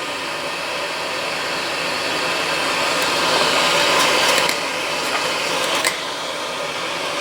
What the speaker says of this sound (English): I've got to turn on my extractor